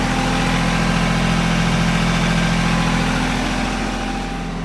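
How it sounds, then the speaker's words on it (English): A loud engine idles close by beside a French drain dig, a steady heavy rumbling drone that holds throughout and eases slightly toward the end, with no other sounds. "Walk away from the engine."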